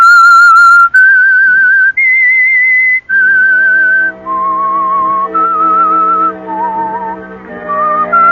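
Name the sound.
whistled theme tune of The Whistler radio mystery show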